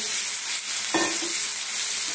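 Marinated, pre-boiled fish frying in mustard oil with onion and tomato for chilli fish, a steady bright sizzle joined by a brief stirring scrape near the middle, close and fairly loud with no talking.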